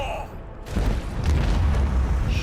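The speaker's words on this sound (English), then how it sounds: "I want to hear the macro cannons roar" Macro cannons fire in the video game Warhammer 40000: Rogue Trader, a loud, deep, rolling boom that swells and sustains after a brief quieter lead-in, with voices faintly present.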